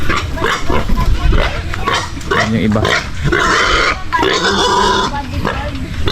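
Pigs grunt and snort close by in a noisy farmyard while a person speaks briefly over them.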